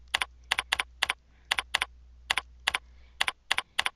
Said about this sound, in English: So I'm going to type something on this